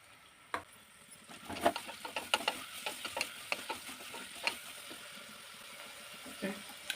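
Chopped onion, ginger garlic paste and mint sizzling in a tempering, with a soft, low hiss under scattered clicks and clinks of a stirring spoon against the pan.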